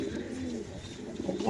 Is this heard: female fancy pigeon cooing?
yes